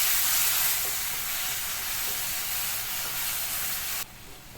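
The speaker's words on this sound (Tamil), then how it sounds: "இது எல்லாத்தையும் ஒன்றா சேர்த்து நல்லா வதக்கிக்கலாம்." Onions and ground tomato paste sauté together in a pan, making a soft, steady hiss with faint stirring. No one talks, and the sound drops to a quieter level just before it stops.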